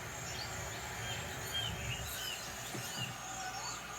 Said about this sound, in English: you should be able to hear birds off to the left, birds off to the right